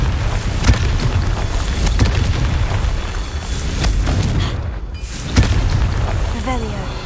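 A Confringo fire-blast spell booms and bursts in Hogwarts Legacy, loud and continuous with several sharp explosive hits, in a dense rumbling game mix.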